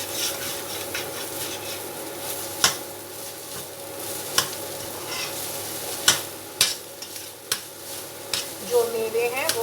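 Poppy seeds (kas kas) roast dry in a pan while being stirred, giving a steady close scraping rustle broken by sharp scrapes and taps of the spoon every second or two, with a faint sizzle underneath.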